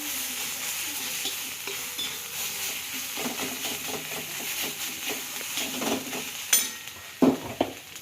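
Mutton, already cooked over gas, roasts briefly on an iron tawa: a steady sizzle with scraping stirs and, near the end, a few louder clanks of a spatula on the iron.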